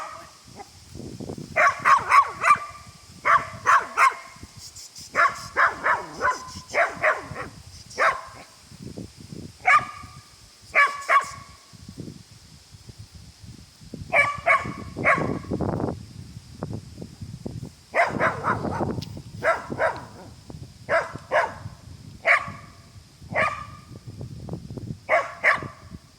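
A Lagotto Romagnolo dog barks repeatedly outdoors after being let loose, close and fairly loud, in bursts of quick barks separated by short pauses, with rustling in between.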